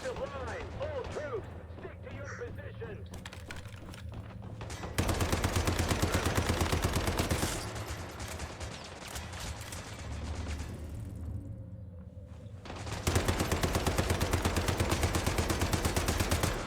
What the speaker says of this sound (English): Just shooting the wall.